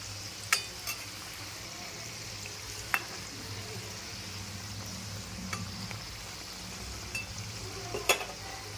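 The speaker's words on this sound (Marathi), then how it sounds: "इथे छान अशा खरपूस खमंग तळून घ्यायच्या" Fresh-coconut karanji pastries deep-frying in hot oil, a steady low sizzle and bubble with occasional sharp clinks and pops standing out, no voices.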